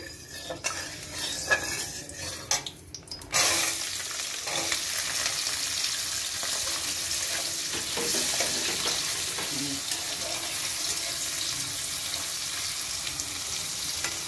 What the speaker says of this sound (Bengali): প্রথমে আলুটা ভেজে নিচ্ছি। তেল গরম হয়ে গেছে।